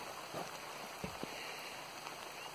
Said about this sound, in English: It's starting to pour.